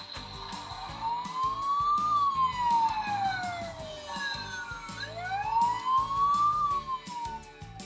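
Toy ambulance siren from an interactive fire-truck playset, a loud electronic wail sweeping up and down in two long cycles, continuous and close over faint background clatter.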